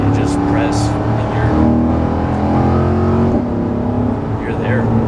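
A 2021 Corvette Stingray accelerates hard in manual mode, its engine roaring loud and close with rising pitch between paddle-shifted gear changes. A voice speaks over the engine.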